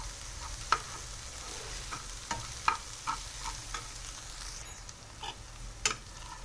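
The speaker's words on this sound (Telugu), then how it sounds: "తర్వాత ఈ ఆనియన్స్ ఎగ్స్ అన్నీ ఇలా మొత్తం కలిపేసుకోండి." Onions and eggs are stirred in a hot pan for egg chapati noodles. A steady frying sizzle runs under scattered spoon scrapes and taps, close up and with no talking.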